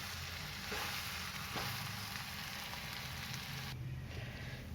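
Samosa vegetable filling with onion sautéing in a pan, a steady soft sizzle running throughout with a few faint stirring scrapes, close and quiet, no voices.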